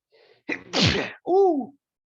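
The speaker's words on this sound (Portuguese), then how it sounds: "Espirro bom." A single close, forceful sneeze with a short sharp intake before it, followed by a brief voiced sigh.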